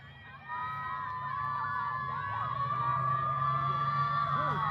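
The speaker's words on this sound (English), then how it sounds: "Kate Murray cheering on Kylie Martin" Crowd at a high school softball game between Highland and Copley cheers and shouts steadily, with whoops and children's yells mixed into a loud, sustained roar.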